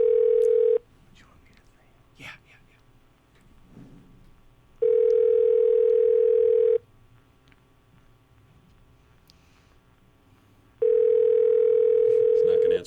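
A telephone ringing tone sounds three times in long, steady bursts with quiet gaps between, and a voice speaks briefly in one of the pauses.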